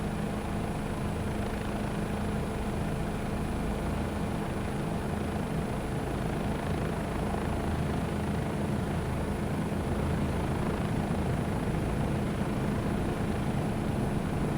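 A constant roaring rush of wind and engine drone, loud and unbroken throughout, like air streaming past a Bell 407 helicopter in flight above about 80 knots in Microsoft Flight Simulator.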